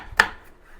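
One crisp knife chop through garlic on a cutting board while making chilli cheese toast, a single close, sharp knock that fades quickly.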